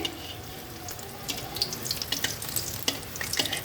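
Battered prawns drop into hot oil in a home kitchen and sizzle steadily, a close hissing crackle with scattered sharp pops growing busier over a few seconds.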